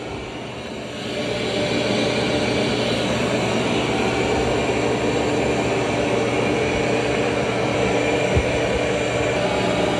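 A Roborock robot vacuum runs on carpet, its motor starting after a quiet second and then settling into a loud, steady whirring drone that holds evenly to the end.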